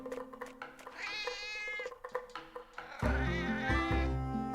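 An orange cat in the video game Secrets of Grindea gives several drawn-out meows, the last one louder and longer, set against steady game music.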